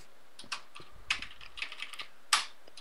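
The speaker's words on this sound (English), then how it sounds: "I failed at typing." Keys tapped on a computer keyboard in short irregular bursts, close and fairly quiet, with a few sharper strikes standing out and no talking.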